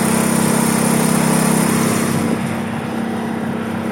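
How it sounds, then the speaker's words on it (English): An old gas engine that has never been rebuilt runs steadily at a gas and steam tractor show, giving a loud, even, droning hum with a constant low tone and no pauses. "this engine's never been rebuilt"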